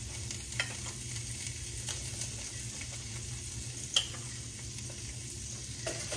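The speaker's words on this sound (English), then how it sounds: "Let's stir it around and see if we need some more." Flour stirred into hot roast beef grease for gravy gives a steady, soft sizzle with faint scraping of the spoon, continuous throughout with a small clink near the middle.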